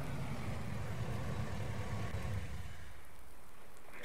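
A tractor engine in the video game Farming Simulator 19 idles with a low, steady continuous rumble, then thins out and drops away near the end as the motor is cut.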